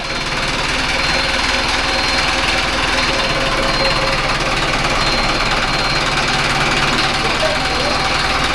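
A Mahindra 605 DI tractor engine runs loud and steady in a field with a rotavator attached, a constant close diesel drone; a voice is heard over it.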